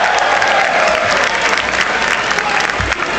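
A rowdy crowd at the 2006 NBA Draft claps and cheers loudly and continuously, a thick wash of applause with shouts mixed in.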